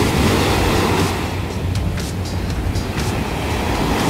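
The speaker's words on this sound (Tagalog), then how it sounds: "Ooh, ang saya nung alon." Sea waves off Hulhumale in the Maldives wash in as a broad, continuous rushing surge, close and fairly loud, with no voices.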